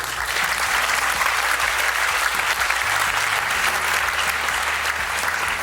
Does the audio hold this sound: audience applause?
yes